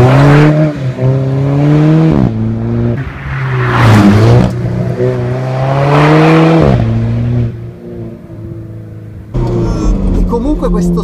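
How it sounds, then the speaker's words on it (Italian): An Alfa Romeo 4C sports car engine revs loudly and repeatedly, pitch rising and falling in bursts with a brief lull, close and aggressive. "il rumore della 4C è una cosa spettacolare"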